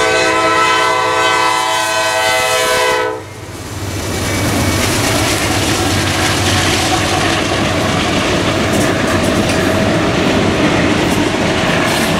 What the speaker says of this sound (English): Amtrak train number 52, the auto train, coming by Folkston on track 2 with approach limited.